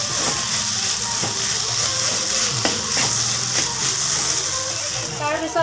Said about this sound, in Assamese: আলুখিনি দি ধুনীয়াকৈ লৰাই দিম